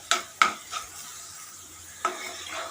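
A spoon stirs potatoes and salt in a frying pan with a few quick scraping strokes over a faint sizzle.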